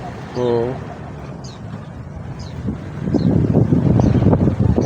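Strong, gusty northeast monsoon wind buffets the microphone at a lakeside fishing spot in Binangonan, Rizal, growing into a loud rough rumble halfway through, while a voice briefly speaks over it.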